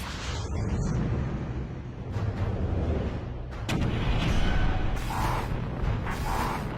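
A deep, continuous rumble from the 1960 magnitude 9.5 Chile earthquake on the Nazca subduction zone, roaring steadily for several seconds with scattered cracks and bursts rising above the low roar.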